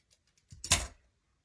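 Scissors cut through a fluffy yarn pom pom, producing a single muffled thud and crunching snip up close, brief and alone against silence.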